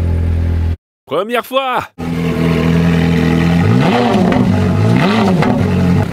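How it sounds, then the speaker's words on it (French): An old ex-rental Ferrari engine, started cold, settles into a loud, steady idle after a brief burst of speech, then rises and falls in two revs. "Ok, on démarre à froid, ça devrait démarrer."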